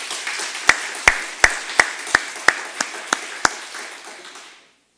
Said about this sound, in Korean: 수고하는 전사하면서 박수 한번 하겠습니다.